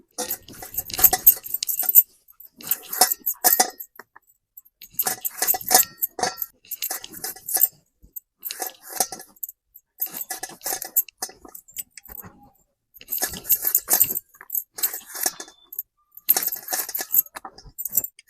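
Tomatoes cut with a knife against a hard surface, heard as bursts of crisp, clinking chops separated by short pauses.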